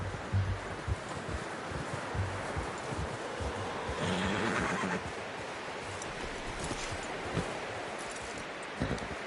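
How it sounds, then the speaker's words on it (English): A horse in the video game Red Dead Redemption 2 gives a clear neigh amid soft hoof clops and rustling wind in an outdoor camp setting. "You should really tether that horse, Arthur."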